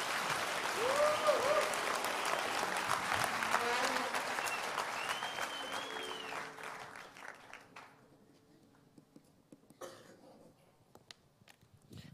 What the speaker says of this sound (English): Clap your hands for the Lord if you can.